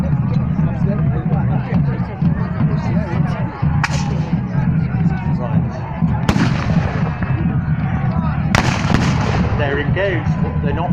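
Black-powder cannon firing during an English Civil War battle reenactment at Gloucester: a few sharp, loud booms spaced several seconds apart, cutting through a steady crowd and battlefield din with talking.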